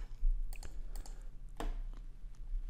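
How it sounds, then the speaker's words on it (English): Fingers tap out a part number on a computer keyboard, a quiet scattered run of soft clicks and key presses over a faint steady hum. "We will type once more our part number, STM32L476VG."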